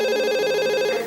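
A telephone rings indoors with a single continuous electronic trill, loud and close, lasting about a second before cutting off.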